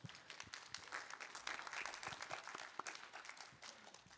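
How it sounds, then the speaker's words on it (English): An audience at an academic paper session on assistive technology and professional inclusion claps in sustained, fairly distant applause that holds steady for about four seconds without any talking. "One more round of applause."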